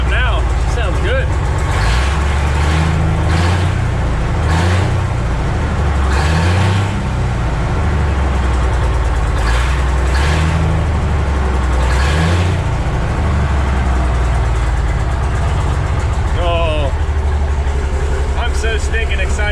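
A 1957 Autocar truck engine runs at a rough, loud idle just after its first start in 15 years, with a pulsing, uneven rumble and occasional revs, while people talk excitedly over it.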